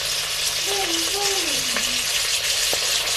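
Garlic and ginger fry for a beef ox cheek stir fry with peppers, a loud continuous sizzle close by, with brief tonal scrapes of stirring over the hot oil.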